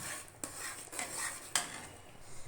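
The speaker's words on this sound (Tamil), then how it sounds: "நம்ம எடுத்து வச்ச பன்னோட க்ரம்ஸ் போட்டுருவோம். போட்டு நல்லா அப்படி கிளறி விட்டுக்கிட்டே இருப்போம்." Bread crumbs for bread halwa are stirred in a pan, a spoon scraping and knocking against the metal in a few distinct taps over a faint sizzle; quiet and close, with no talking.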